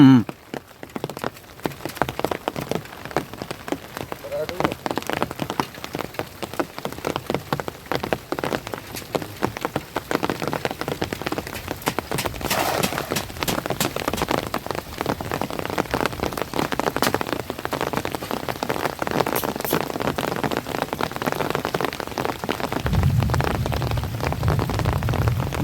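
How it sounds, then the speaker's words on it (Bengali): Heavy rain pours down during a fishing outing, a dense, continuous patter of drops striking surfaces nearby that holds steady and loud throughout, with no talking. "বড় করে বৃষ্টি আসতেছে।"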